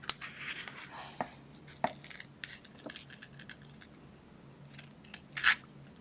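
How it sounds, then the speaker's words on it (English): Sharp scissors cutting paper during card making, a series of quiet, close snips and crisp slicing strokes spaced irregularly, with soft handling rustles between them. "You need your sharp scissors for this."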